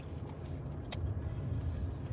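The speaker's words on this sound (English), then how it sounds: "Can't go nowhere if the car is not started." A car engine starting gives a low, steady rumble that stays faint and even for about two seconds, with no voices over it.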